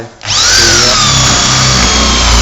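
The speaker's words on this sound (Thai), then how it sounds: "เราเจาะไปให้ผ่านไม้สี่มิลให้ไปโดนโครงก่อน" Power drill boring through a 4 mm wood panel of a display cabinet, a loud steady whining drill tone that starts after a brief quiet moment and holds continuously, close up, with no talk.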